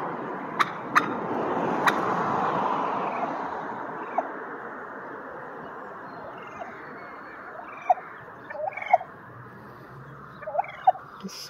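A turkey in Portland calls outdoors, several brief gobbling bursts scattered through the clip, moderately close, over a steady wash of background noise with no talking.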